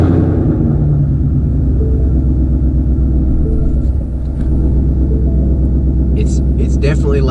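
Ford Mustang GT V8 fitted with a 2018 intake manifold idles loud and close with a deep, steady rumble, dipping briefly midway before settling back to a constant throb.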